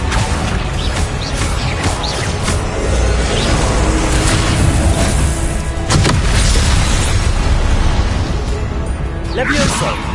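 The Confringo explosive spell from Hogwarts Legacy blasts amid a loud, continuous wash of booms, crashes and whooshes from combat, with a voice calling out over the din.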